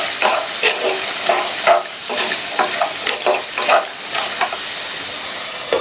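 Diced carrots sizzling in a hot pan with turmeric and salt, stirred with a spoon in steady scraping strokes over a continuous loud frying hiss.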